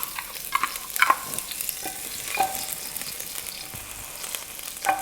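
Four garlic cloves frying and browning in hot oil for a pigeon peas and coconut dish, with a continuous soft sizzle broken by a few clinks and scrapes of a utensil, close and steady.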